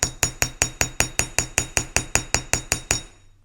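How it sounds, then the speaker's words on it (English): Nylon hammer striking the flattened ends of jewelry chain wire for earrings: fourteen evenly spaced, sharp metallic taps in a steady rhythm over about three seconds, close and clear with no talking. "take my nylon hammer and hammer on that"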